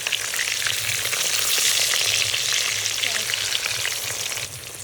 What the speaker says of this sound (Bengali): এবার আমি এগুলোকে উল্টে আর একটু ভেজে নেবো।